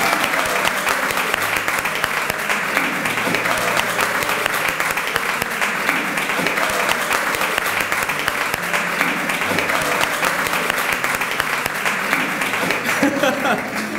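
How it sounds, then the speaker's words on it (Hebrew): Sustained, dense applause from an audience clapping for a young girl, steady and loud throughout with a faint murmur of crowd noise beneath. "כולם כפיים, כפיים"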